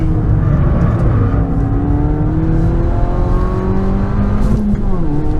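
A Hyundai performance car's torquey engine accelerating hard, a loud continuous rising drone with steady climbing pitch through the gears, heard close from inside the car, with a voice talking faintly over it.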